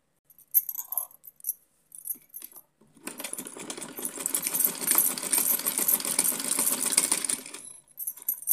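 A sewing machine runs steadily for about five seconds as it stitches lace trim onto a small doll dress. Quiet handling noises and faint clicks come first, and the machine stops near the end.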